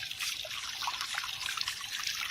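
Tap water runs steadily into a sink while a paint brush is washed, a soft continuous trickle with small splashes and drips, fairly quiet and close.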